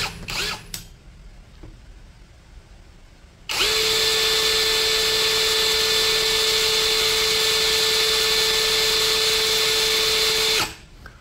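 A GTools GT04 cordless brushless drill spins up to high speed in drilling mode after a few faint clicks, holding a loud, steady, high-pitched whir for about seven seconds before cutting off abruptly.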